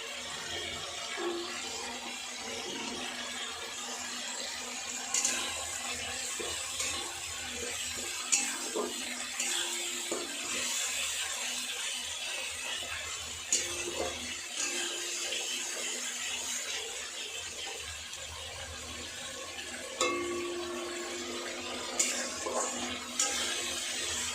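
Water is poured into a cooking pot with spices for a Bengali rui fish curry, a soft, steady wash of liquid with occasional light clinks of utensils against the pot.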